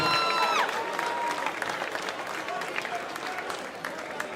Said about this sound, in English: a big round of applause for both these ladies after 3 excellent rounds of action